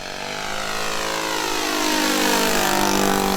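The engine of a quarter-scale model Sopwith Pup biplane drones steadily overhead, its whine sweeping and growing slightly louder as it passes.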